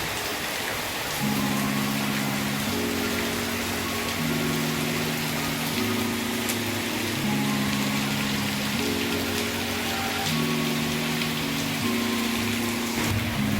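Steady rain falls continuously outdoors during hot weather, a dense even hiss heard up close, with a low droning hum rising and falling in the background.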